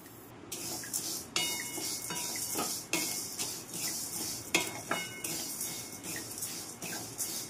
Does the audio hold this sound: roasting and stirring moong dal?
yes